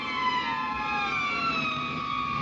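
Police car sirens wailing in a steady, slowly falling tone, loud and continuous over street noise with no talking.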